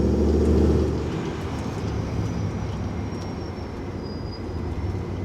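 A 2011 Ram R/T pickup with a TorqStorm supercharger driving, a steady low engine and road drone heard from inside the cab, with a faint high supercharger whine and no talking.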